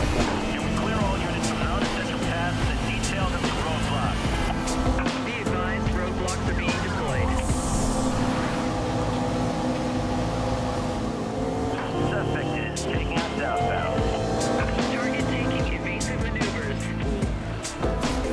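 Racing car engine surging under turbo boost in Need for Speed Rivals, a loud continuous roar with dense game music and effects layered over it throughout.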